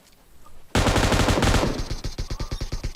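Rapid automatic gunfire from a video game shooter erupts loudly after a brief quiet start, first as a dense burst, then settling into a steady rhythmic stream of distinct shots.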